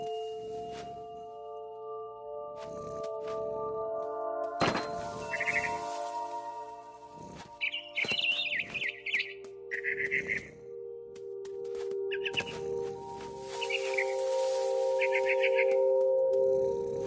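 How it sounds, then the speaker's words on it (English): Barn swallow chirping in the video game What Remains of Edith Finch: bursts of high twittering calls over a steady musical drone, with a few sharp thumps between. "Then I heard chirping outside my window. It was a barn swallow going back to her nest."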